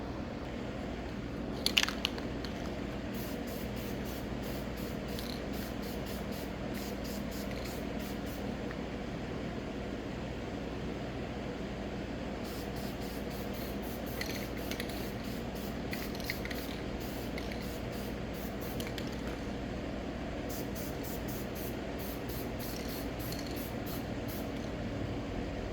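A spray gun lays down the last base coat of semi-gloss black paint on a 2003 Honda Elite 80 scooter part, faint bursts of hissing spray in short repeated passes over a steady low background hum.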